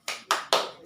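A classroom group claps a spirit cheer in three sharp, evenly spaced claps, loud and close, with no talking over them.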